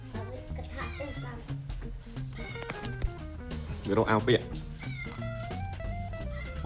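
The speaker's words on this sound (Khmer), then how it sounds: "បងប្អូនឆ្មានឹងមិនដឹងមកពីណាទេគឺរត់មករកឲ្យតបាយ" A cat meows in a few drawn-out, rising cries, clearest midway through, mixed in with steady talking and other household sounds close by.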